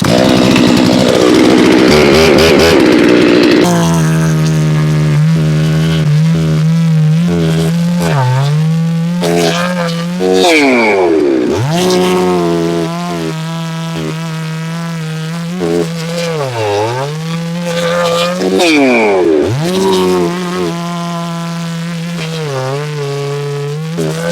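A Holzfforma G660 chainsaw screams at high revs while making test rip cuts through wood, its pitch repeatedly sagging under load and climbing back as each cut ends, very loud and close with no talking.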